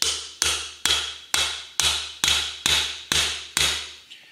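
Hammer tapping a bearing into a Kawasaki 15F jet pump: about ten evenly spaced, moderate metallic taps with ringing decays, near and alone, fading slightly at the end.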